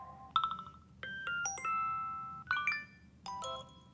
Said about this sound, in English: So a lot of new ringtones. You can, I'm sure you guys will have fun going through those. There's also new alerts as well.